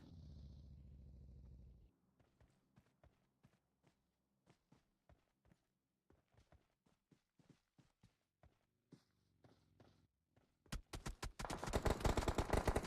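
Sparse, crisp gunshots in a battle royale esports match, single shots spaced irregularly at moderate distance over near silence, ending in a loud burst of rapid fire.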